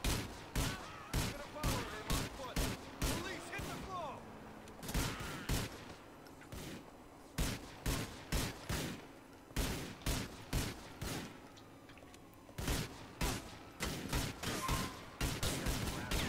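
Rapid bursts of gunfire from Grand Theft Auto ring out over a police chase, with sharp repeated shots in quick volleys that sound fairly near and loud and fill the whole stretch.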